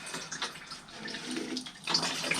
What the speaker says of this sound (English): and then put the old fuel back in.